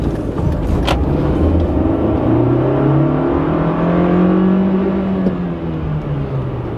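A car accelerating hard through first gear up to 55 on an open road, the engine note rising steadily and loud from close inside, with no talking.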